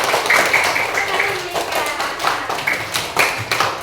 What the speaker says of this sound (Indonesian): Kalau setuju berikan tepuk tangan meriah.